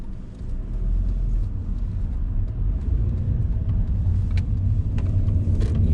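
A car driven slowly during a Korean driving lesson, accelerating gently into a lane past a pedestrian crossing; a steady low engine and road rumble runs throughout at an even, moderate level, with no talking.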